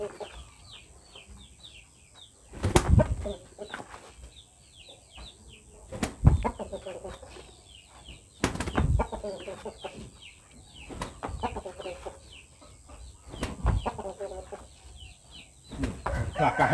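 Fighting cocks being exercised, beating their wings in several loud flurries with clucking and squawks scattered between, close by.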